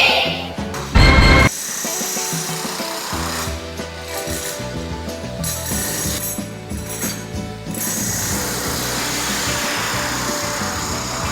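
Demolition hackers break up walls in a five-room flat renovation, sounding as steady mechanical rattling and grinding with scattered knocks and a brief loud burst near the start, continuing throughout.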